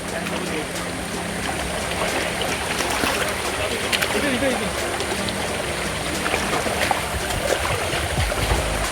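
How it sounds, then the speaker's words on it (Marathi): A forest stream flows steadily nearby, a continuous broadband rush and trickle of water with voices faintly present over it. "हे जे पाणी आहे हे तरून येतं तिकडे तर अक्षरशः झरा आहे"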